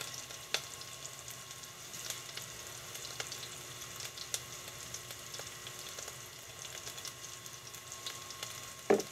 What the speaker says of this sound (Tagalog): nagigisa muna tayo ng bawang, luya, sibuyas.